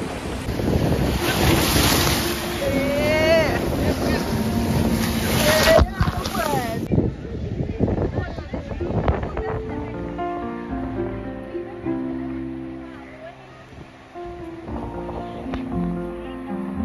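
Sea waves wash and break on Digha beach, a steady roar of surf mixed with wind noise buffeting the microphone, continuous and fairly loud throughout with no one speaking.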